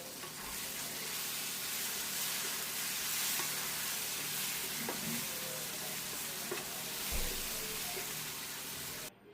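Egg curry stir-fries in a pan with a continuous close sizzle, while occasional scrapes and clinks of stirring break through the hiss and no one talks.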